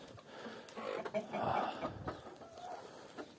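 A large Adler breed rooster, hatched from eggs brought from Russia, clucks close by in a short, uneven series of calls over light background noise.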